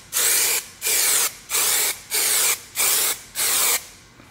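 Aerosol spray paint goes onto a plastic bumper cover for a second coat in six evenly spaced hissing bursts, each about half a second long, loud and close with short gaps between.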